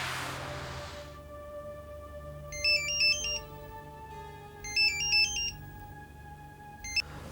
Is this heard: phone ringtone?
yes